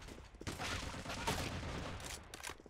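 Rapid gunfire bursts from The Origin Mission, an online mobile first-person shooter, crackling steadily and fairly quietly, with a few separate shots near the end.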